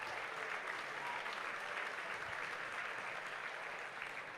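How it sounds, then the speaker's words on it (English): Audience applause at a runway show, a steady wash of clapping that holds at an even level for several seconds before tapering slightly. It sounds fairly distant and soft, with no talking over it. "Please give them a round of applause."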